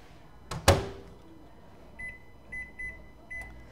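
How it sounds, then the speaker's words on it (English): A microwave oven heats a gelatin mixture for a poke cake, opening with a loud clunk of the door or start button, then a low hum with a few short electronic beeps near the end. "you have to be careful because this does rise in the microwave"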